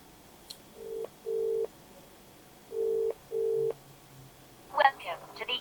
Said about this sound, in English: I'm gonna dial another number.